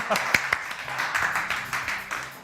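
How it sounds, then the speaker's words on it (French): Light, scattered clapping from a few people, fairly quiet, while someone talks over it. "Bah oui, on t'applaudit."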